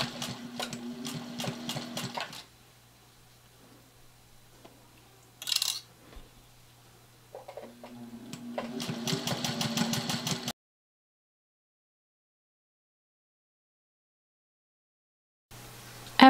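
Sewing machine stitching lines across a fabric face mask, two short bursts of rapid rhythmic needle clatter with a brief clunk between them, then silence and a final short start.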